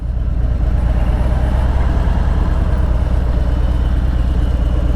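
A motorcycle engine idles steadily with the clutch easing out and no throttle applied, a continuous low, even rumble with a regular pulse, loud and close, with no voices.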